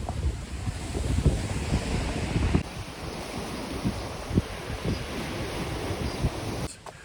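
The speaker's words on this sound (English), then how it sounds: "A little windy. Hopefully this audio is coming out, but just another gorgeous day to be at the beach. Waves coming in." Steady roar of surf and gusting wind buffeting the microphone at a beach in the Philippines, waves rolling in continuously with no voices.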